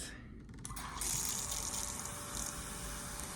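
Water pouring steadily onto dried sphagnum moss in a small elephant-shaped bowl, a soft continuous trickle and splash that swells slightly after a moment and stays faint and close, with no talk.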